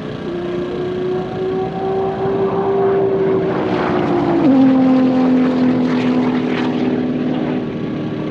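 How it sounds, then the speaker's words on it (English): A 900hp twin-turbo Corvette C5 charges down a half-mile strip on a high-speed run, a loud, steady engine drone with rising whine that drops in pitch once midway, as at a gear shift. "We got the C5 twin turbo coming down."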